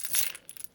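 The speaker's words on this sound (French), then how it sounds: "Donc ça, c'est toutes les pièces qui sont en métal." Metal board game pieces clink together, a brief cluster of bright metallic taps, close and fairly faint, with no voices.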